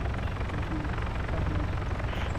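Helicopter in the military game ARMA 3 roaring close and loud, a continuous rotor and engine rumble with a heavy low end that holds steady the whole time.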